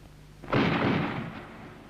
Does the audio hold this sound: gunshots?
yes